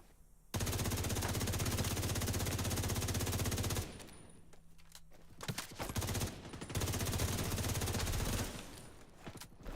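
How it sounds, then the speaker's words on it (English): Enemy weapons firing in The Division 2: long, loud bursts of rapid gunfire that break off briefly, then resume as dense volleys, with no talk. "Oh, you're just gonna keep firing grenades."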